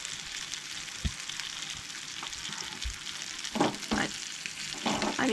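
King fish frying in oil in a pan, Goan style: a soft, continuous crackling sizzle with a few brief knocks and bursts as the pieces shift, heard alone without talk.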